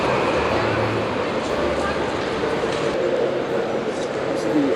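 An ICE train at the Munich railway station, a low rumble and hiss under a busy station wash, with voices talking over it.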